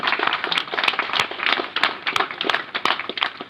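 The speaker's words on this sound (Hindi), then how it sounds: "एक जोरदार तालियों से इनका स्वागत किया जाए" Scattered hands clap in an uneven, moderately loud patter, a small group applauding steadily for a few seconds to welcome a police station officer returning to duty.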